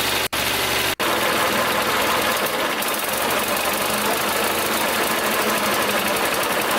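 A snow thrower motor runs continuously during a test, a loud rough droning with a knocking rattle, broken by two very brief dropouts near the start.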